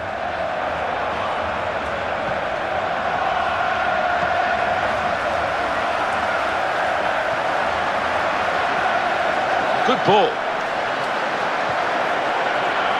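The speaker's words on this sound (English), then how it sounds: "that got the crowd excited, that attack" A football match crowd roars in a steady, dense wash of cheering and chanting that swells briefly, with a commentator speaking over it.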